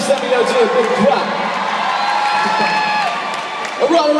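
Concert crowd at an outdoor arts center applauding and cheering for a performer, a steady wash of clapping with scattered whoops lasting the whole stretch, voices mixed into the din.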